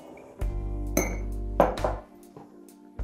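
A spoon clinking against a glass carafe while honey is added, a few close, bright taps and rings with short resonant tails, heard alone without talk.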